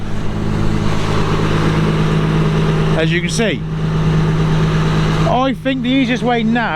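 A Chieftain AVRE armoured vehicle engine idles steadily with a low, constant drone while someone talks close by.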